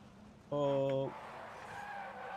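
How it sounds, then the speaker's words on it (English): A glider brakes hard in the video game PUBG, giving a loud, sharp tonal squeal of about half a second that cuts off abruptly and leaves a steady background rumble. "Hitting the brakes is always risky when you're in a glider."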